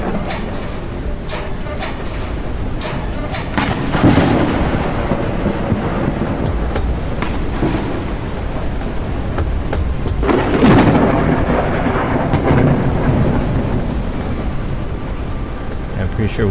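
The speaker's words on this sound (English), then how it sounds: "just killing time till the storm blows over" A thunderstorm in the Forever Skies video game, with steady heavy rain and rolling rumbles of thunder swelling twice, loud and close throughout.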